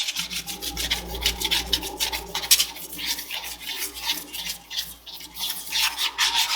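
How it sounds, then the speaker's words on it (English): Steady back-and-forth rasping of a sanding block rubbing hardened epoxy on a tumbler, close and rhythmic, continuing throughout with no voices. "So I'm going to take the sanding block I got from Amazon."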